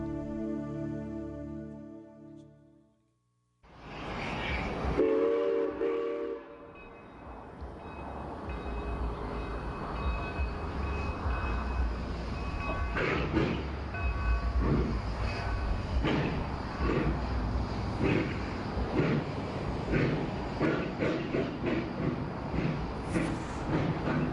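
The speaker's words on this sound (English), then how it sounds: "a lady waved to the train as it crossed the highway at New Washoe City" A train rolls across a highway crossing on the V&T track at New Washoe City: steady rumbling wheels and clanking railcars run loud and close for most of the stretch, after a sustained horn-like tone and a brief quiet gap near the start.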